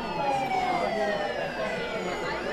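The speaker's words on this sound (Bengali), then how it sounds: "খানিক পরে একটা পুলিশের গাড়ির হর্ন শোনা যেতেই ভিড়টা ধীরে ধীরে পাতলা হয়ে এলো" A police car siren wails in a drama scene, its rising and falling tones sweeping steadily over a dense background, loud and close with no talk.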